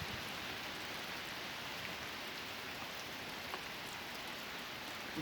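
Steady rain falls outdoors in rainy weather in Muratlı, a dense, even hiss of drops on surfaces that continues without a break and with no voices.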